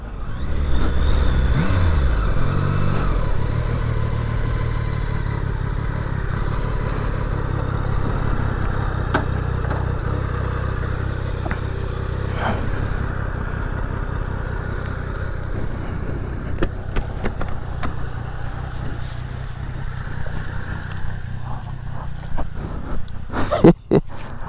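A Triumph Daytona 660 motorcycle on a test ride gives a continuous engine drone with wind rush, building loudly at the start and holding steady, with a few clicks and knocks near the end.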